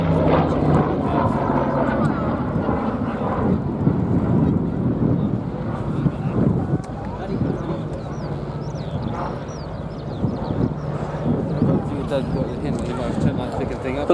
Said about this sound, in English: This is one of the two-place aircraft.